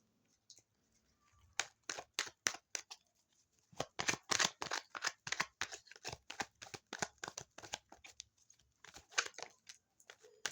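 Close, quiet shuffling and handling of playing cards during a card reading, with crisp flicks and snaps coming in bursts and short pauses between them.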